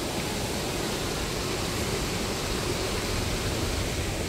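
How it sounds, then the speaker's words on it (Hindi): Loud, steady roar of a rushing flooded river during rain, a dense continuous wash of noise with no pauses or voices. "ये देखो इतनी खतरनाक नदी आ गई यहाँ पे"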